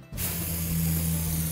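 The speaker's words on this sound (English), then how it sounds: "The aerosol is nice because I know I can pinpoint the placement of it right up against the foundation" An aerosol can of Terro insect killer sprays in one steady, loud, hissing burst along a house foundation. A low mechanical hum runs beneath it, and no one speaks.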